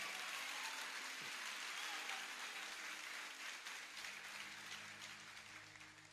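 Sustained applause from a church congregation at a Lagoinha Barra Funda service, a dense, even wash of many hands clapping that holds steady throughout and eases slightly toward the end.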